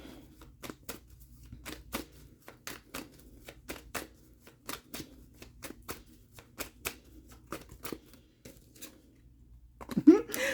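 Tarot cards are riffled and shuffled by hand in quick, close bursts of sharp flicking snaps over a quiet room, with a brief voice near the end.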